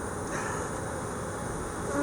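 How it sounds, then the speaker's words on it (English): Honeybees at an opened hive, stirred up after a board was dropped, give off a dense, continuous agitated buzz, close and steady with no talking. "Dropped the board, got those bees mad."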